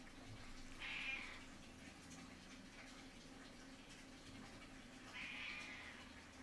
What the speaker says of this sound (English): She just keeps looking up at me, meowing